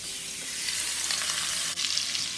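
Shrimp hit hot smoked sausage drippings in a pan, setting off a steady loud sizzle and crackle with a brief stirring scrape partway through.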